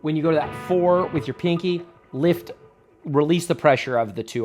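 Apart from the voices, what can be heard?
None of the usual background noises is heard.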